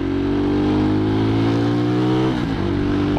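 A stock 2007 Husqvarna SM610 motorcycle engine holds a steady buzzing rev for about two seconds, then drops off sharply as the throttle closes; loud and close, no voices.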